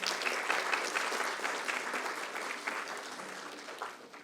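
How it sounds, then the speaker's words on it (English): An audience at a business chamber mentoring session applauds their president, with a sustained, even wash of clapping that slowly fades over several seconds. "A round of applause for our president."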